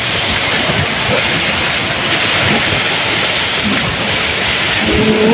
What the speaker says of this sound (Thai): ฝนตกแรงมาก